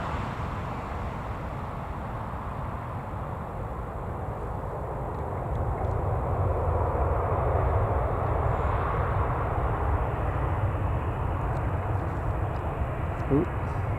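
An airplane landing at Newcastle Airport, a steady broad jet roar heard from outside at a distance that grows a little louder partway through and rumbles on without a break.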